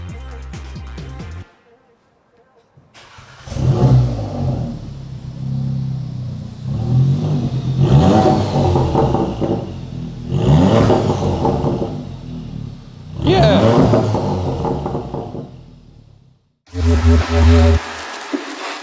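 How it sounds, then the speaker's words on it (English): A loud Volkswagen Golf R engine without an exhaust revs repeatedly, harsh raw bursts rising and falling, with clattering mechanical noise between the revs. "I've always wanted to see what it'd sound like with no exhaust on."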